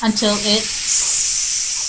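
Steam hissing from the whistle on a pressure cooker in the video game Venba, a loud steady high hiss that fills the moment after a few spoken words.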